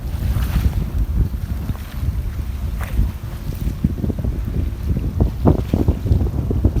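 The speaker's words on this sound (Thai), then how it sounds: "ลมแรงมากเลย" Strong, cold wind buffets the microphone in a steady, loud rumble, with rushing floodwater and waves churning underneath throughout, beside a construction site.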